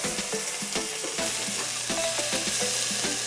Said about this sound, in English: Don't overcrowd the pan. Our goal here is to get a nice brown sear on all sides.